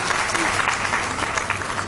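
An audience at an education policy convention applauds to welcome a speaker, a dense, continuous patter of clapping from a crowd, fairly loud, with voices faintly mixed in.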